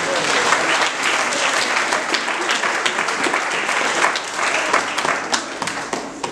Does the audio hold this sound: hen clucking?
no